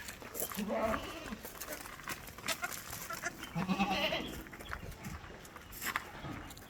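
A nanny goat and her firstborn male kid bleat a few times nearby, with soft shuffling and faint background voices between the calls.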